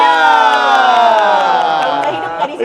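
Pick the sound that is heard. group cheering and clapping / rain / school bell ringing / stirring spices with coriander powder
group cheering and clapping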